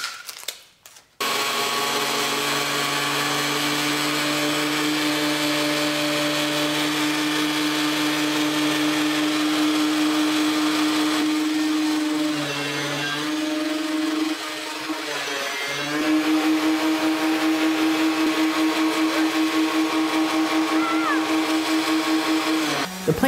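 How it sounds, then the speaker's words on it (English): A woodworking planer's motor runs loud and steady close by, its pitch dipping briefly midway before returning to a constant whine. No one speaks. "The planer worked really well"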